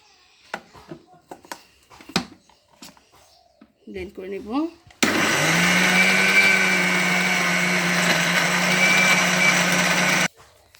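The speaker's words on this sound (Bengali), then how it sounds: "এখন আমরা এটাকে ব্লেন্ড করে নেব।" A kitchen blender whirs loudly through a chutney of coriander leaves, lemon water and tamarind, one steady grinding run of about five seconds after a few clicks and soft handling sounds.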